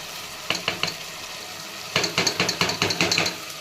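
Ginger garlic paste frying with softened tomatoes in a pan, the sizzle broken by a few quick stirring scrapes early on and then a busier run of repeated spatula strokes, close and fairly loud with no talking.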